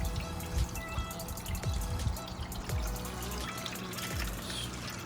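One liter of water pours and trickles into a pot for boiling noodles, a soft, steady, close splashing with small drips and no voices.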